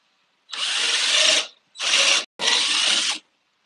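A cordless drill with failing, weak batteries whirs in three short bursts, the first longest, each one loud and close with brief silent gaps between.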